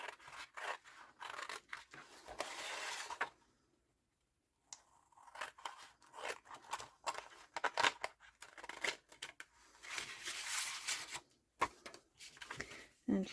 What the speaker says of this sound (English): And then you're going to cut out these two bits.